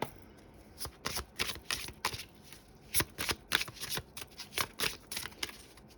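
Oracle cards being shuffled by hand, close up, in a series of irregular crisp riffling bursts with short pauses between them.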